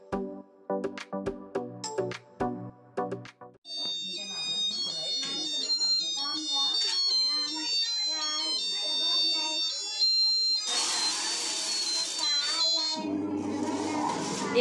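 A buzzer alarm sounds in a busy household, a shrill electronic tone running steadily for several seconds after some clattering, with children's voices and talk mixed in underneath.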